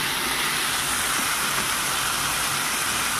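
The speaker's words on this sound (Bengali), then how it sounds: "এখন আলু ভাজা হচ্ছে, এই দেখুন।" Potatoes fry in a pan with a steady, dense sizzle that holds evenly close by for the whole stretch, with no talking over it.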